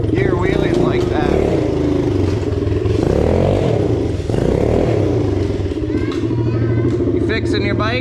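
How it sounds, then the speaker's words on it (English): A Yamaha 110 motorcycle doing third gear wheelies, its engine droning and revving steadily close by, with clattering and a person talking over it. "See if I can do those third gear wheelies like that."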